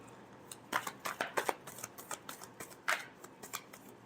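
Tarot cards being shuffled by hand, a rapid series of crisp riffling flicks and soft slaps in an irregular rhythm, close and fairly quiet with no talking.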